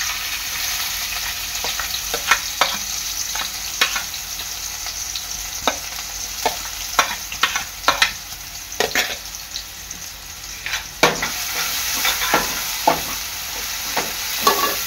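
Onion with a bay leaf fries in hot oil for Koli-style prawn rice, hissing steadily as a spatula stirs it, clacking and scraping against the pan in an irregular, sometimes quickening rhythm. No voices.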